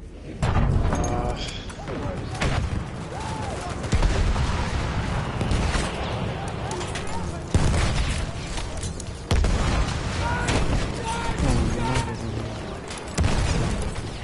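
Battlefield 1 battle sounds with repeated booming blasts and bursts, including dynamite and grenade explosions, people talking and shouting over the action throughout.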